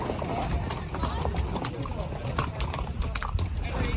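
Rhythmic clip-clop of horse hooves at a steady trot, moderately close, with a low background rumble and voices talking over it.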